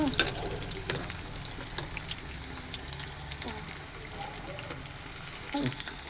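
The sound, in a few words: onions frying in pan until reddish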